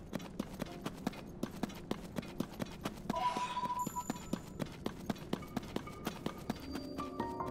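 Horse hooves clip-clop steadily in The Legend of Zelda: Tears of the Kingdom, a crisp regular beat of close, evenly spaced footfalls with a brief burst of game noise midway.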